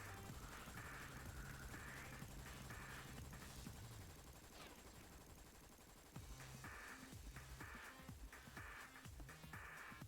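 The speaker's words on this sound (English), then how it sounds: "amidst the sound of gunfire." Sustained fusillade of gunfire, machine-gun bursts and rapid shots filling the whole stretch at steady loudness, briefly easing midway before resuming in dense rattling volleys.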